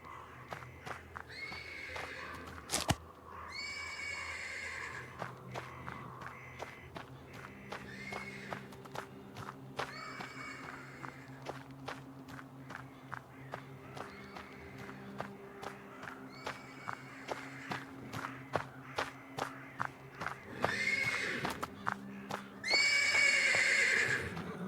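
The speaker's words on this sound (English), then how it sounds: "The persistent neighing of a horse can be heard from the stables." A horse in stables in the video game Black Book neighs repeatedly over a steady low ambient drone, with regular clip-clop hoof or footstep taps throughout and a louder whinny near the end.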